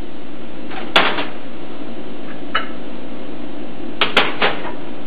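Mirepoix vegetables tipped into a pot on an electric range: a few sharp clunks and clatters over a steady low hiss, with no talking.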